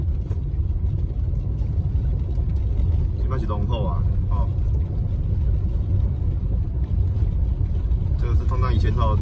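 A car driving along a narrow rural road on Lesser Kinmen, giving a steady, loud engine and road rumble throughout, with people talking inside the car over it.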